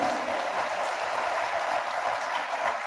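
Audience at a university conference session gives a strong round of applause, a thick continuous roar of clapping from a large room that stays loud and even from start to finish.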